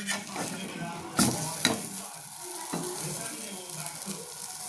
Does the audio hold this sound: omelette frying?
yes